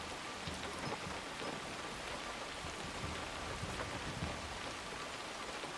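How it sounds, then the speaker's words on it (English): Rain falling in the game Assassin's Creed Shadows, a dense, steady hiss of downpour with a low rumble beneath, fairly quiet and continuous. "Because the rain just picked up."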